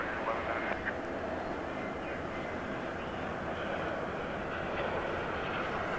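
At DFW Airport a jet going around roars steadily in the distance, a broad continuous engine rumble, while air traffic control radio chatter plays over it.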